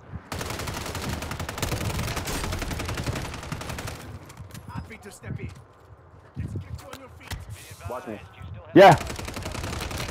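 Video game automatic gunfire in dense rattling bursts, close and loud at first, then scattered shots and one sharp blast near the end, with players talking over it.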